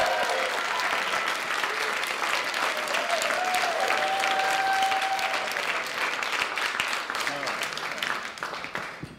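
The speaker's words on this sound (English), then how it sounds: "Please, a very warm round of applause for Lara Sussman, everybody." A comedy club audience applauds a comedian taking the stage at a stand-up debut. Loud, sustained clapping mixes with crowd cheers and a brief whistle, then thins slightly toward the end.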